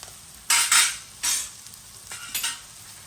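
Onions fry in a pan for a Réunion rougail, a soft background sizzle broken by several loud bursts of stirring and scraping, each lasting a fraction of a second.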